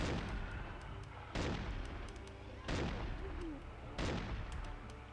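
Gunfire while shooting zombies in the video game 2013: Infected Wars, four heavy, booming shots spaced roughly a second apart, each with a sharp attack and a rumbling decay over quieter game background.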